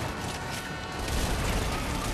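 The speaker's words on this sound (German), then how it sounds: "Granatwerfer? Ja." A grenade launcher round explodes in the video game Army of Two, a dense, loud, broadband blast and rumble that fills the whole stretch with no clear pauses.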